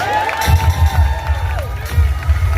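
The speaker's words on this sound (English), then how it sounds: "Give him a round of applause." Lively audience cheers and applauds at a steel pan music showdown, a loud crowd roar with shouts and whistles rising in several swells, mixed with a sustained tonal ring.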